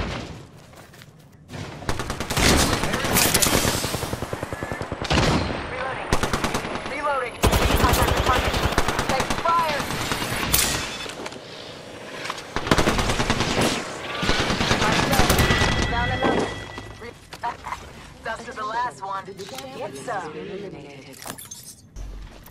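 Video game firefight: bursts of automatic gunfire and sharp cracks come and go over a long stretch, loud and close, mixed with someone speaking and metallic clatter.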